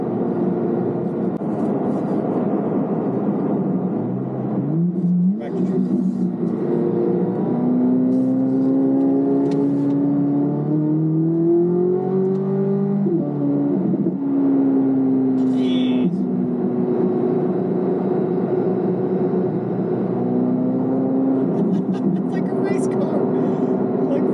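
A fighter pilot's car with its engine holding steady revs, a loud continuous drone whose pitch climbs and dips slightly, heard from inside with someone talking over it.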